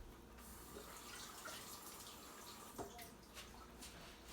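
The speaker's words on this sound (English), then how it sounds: "I'm gonna just rinse this out so I can set it on the counter" Tap water runs over a ladle at a kitchen sink, a steady soft splashing with faint clinks of metal, quiet and close without talk.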